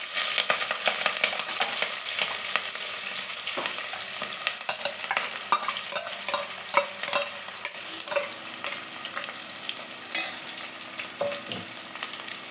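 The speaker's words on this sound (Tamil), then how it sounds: "இப்போது ஆனியனும் பச்சை மிளகாவும் சேர்த்து வதக்கிக்கலாம்" Onion and green chillies sauté with whole spices in a pan, a close, continuous sizzle broken by frequent scraping and clinking stirs of a spoon.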